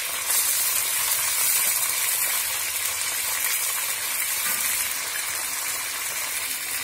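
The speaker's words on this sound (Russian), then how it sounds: "Слегка обжарим курицу." Steady, loud sizzling of chicken frying in hot oil, a continuous crackling hiss with no talking.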